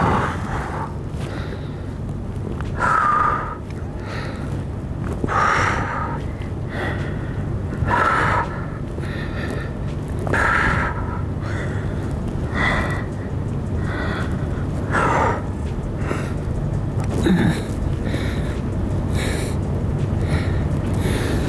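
Deep, steady breaths drawn in and pushed out at regular intervals of a few seconds while holding a front split stretch, close and fairly loud over a faint background hum.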